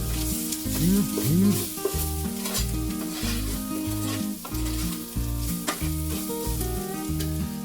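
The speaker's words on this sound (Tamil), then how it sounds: "எண்ணெயிலேயே அந்த மசாலா வந்து நல்லா வதங்கணும்" Masala sautés in oil for chicken cutlets, a sizzling fry with scraping stirs heard under steady tonal background music.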